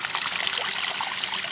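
Water from a natural spring trickles steadily at an outdoor site, a soft continuous splashing and gurgling heard up close with no voices.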